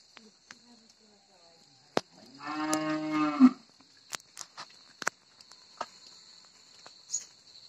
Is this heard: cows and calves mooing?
yes